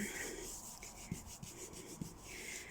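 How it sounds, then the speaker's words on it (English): Soft, steady rubbing as colours are blended by hand on an art journal page, a quiet close scratchy texture with a few light taps, no talking. "All I'm doing is sort of rubbing and blending the colours together"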